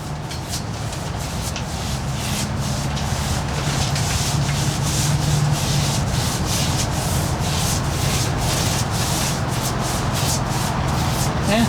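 A rag rubs old early American wood stain onto a workbench, a close, steady scrubbing hiss with rhythmic back-and-forth strokes that carries on without a break.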